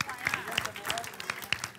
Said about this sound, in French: On leur donne une bonne main d'applaudissement.